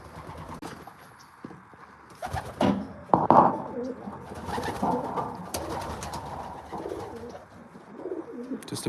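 Pigeons coo steadily inside a loft, the soft rolling calls overlapping near and far against a busy background of flutters and shuffling.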